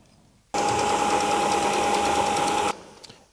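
Electric mixer whirring through chocolate chip cookie dough, a loud steady motor hum with a clear tone that switches on abruptly, runs about two seconds and cuts off, followed by a couple of faint knocks.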